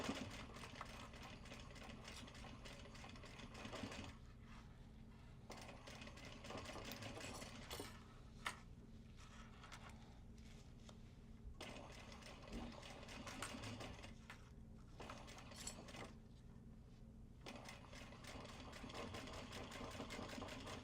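Sewing machine stitching a bag made of Japanese fabric, running in steady bursts of whirring needle rhythm with brief pauses between runs, close and continuous over a low motor hum.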